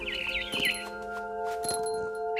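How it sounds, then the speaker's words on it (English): A swallow chirps in a quick wavering trill near the start, over steady sustained electronic tones from the video game What Remains of Edith Finch, followed by a few soft clicks. "Then I heard chirping outside my window."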